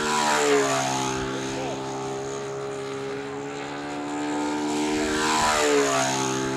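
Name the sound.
electric model airplane flying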